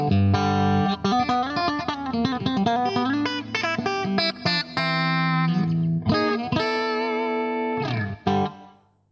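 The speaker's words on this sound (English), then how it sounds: "That's a basic clean sound. It's got a kind of a plate reverb on it." Clean electric guitar plays a run of chords and single notes, each ringing out into a lush plate reverb before fading at the end.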